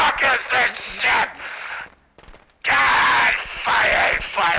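Rapid bursts of fireworks crackle and pop in the Friday the 13th video game, loud, dense clustered blasts with a short lull in the middle before another heavy barrage.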